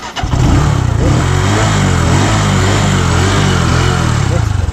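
A motorcycle engine, just drained of water from its gasoline, starts and runs with a loud steady idle and light revving close by, a voice briefly heard over it.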